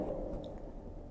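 Water being poured onto jaggery in a pan while making payasam, a brief soft squishing, trickling splash, close and fairly quiet, with no talking.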